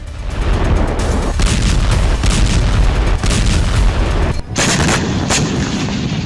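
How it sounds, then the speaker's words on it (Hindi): Israeli bombardment strikes a town in southern Lebanon, heard as a continuous heavy roar broken by repeated sharp booms and blasts, with a louder cluster of reports near the end. "इजराइल ने लेबनान के मारूफ शहर में जबरदस्त बमबारी की।"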